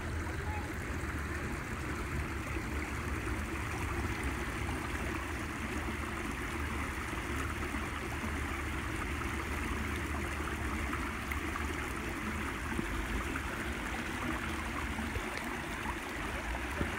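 A shallow stream flows in a steady, dense rush of water that runs unbroken throughout, close and fairly loud, with no clear voices over it.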